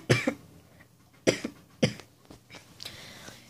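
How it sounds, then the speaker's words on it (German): Three harsh coughs come in separate bursts, each followed by a shorter one, close and fairly loud, then a few softer breathy sounds. "desto mehr ich jetzt rede, immer desto mehr Husten."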